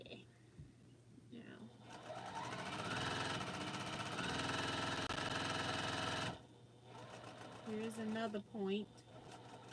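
A sewing machine runs in one steady burst of about four seconds, stitching white quilt fabric pieces together, loud and close, with someone talking before and after it.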